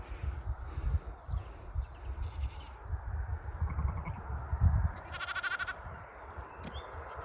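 Lambs bleat now and then over a steady outdoor farm rumble, with one brief, clearer bleat near the end.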